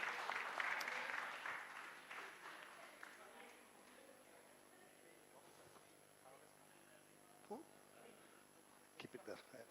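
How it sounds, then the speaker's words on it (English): Audience applause at a SAAIL 2025 event, loud and dense for the first two seconds after a group exercise, then thinning out into scattered claps and murmuring voices before a few final claps near the end. "Give a round of applause to all of you."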